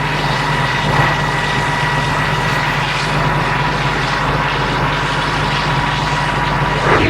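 Combine harvester working a soybean field at night, a loud, steady engine drone with a constant low hum and whine, close by and uninterrupted, no speech.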